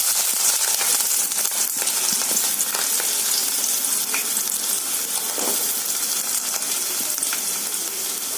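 Onions dropped into hot oil for Telangana-style chicken curry, frying with a loud, continuous, dense sizzle and crackle that stays steady throughout, a few faint stirring knocks, no talking.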